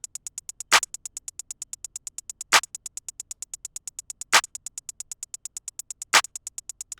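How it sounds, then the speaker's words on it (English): A Pluggnb beat drum pattern: crisp hi-hats tick in a fast, steady stream while a sharp clap lands at regular intervals, four times across the loop, dry and alone with no voice. "Starting off for drums, we have the hi-hat and clap, which is gonna sound like this."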